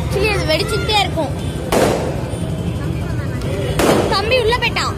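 Firecrackers burst loudly at a wedding celebration, two sharp blasts a couple of seconds apart over busy crowd noise and chatter.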